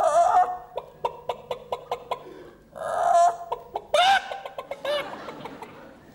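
A man imitates a hen's clucking with his voice, a close, loud run of short rhythmic clucks broken by drawn-out squawky cackles, repeated in several bursts.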